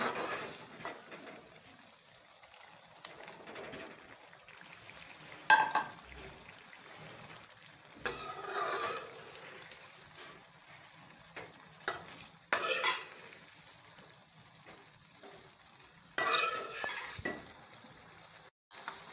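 Fried chicken pieces stirred in a pan with chili sauce for black pepper chicken, giving steady scraping stirs over a soft sizzle, with a few louder clanks of the utensil against the pan.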